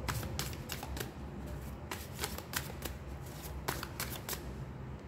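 Tarot cards are shuffled and drawn during a reading, producing rapid, close, crackling riffles in short bursts over a steady low hum of background noise.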